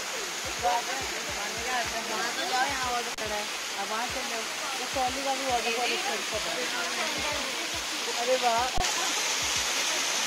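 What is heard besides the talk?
waterfall, flowing water at Nainital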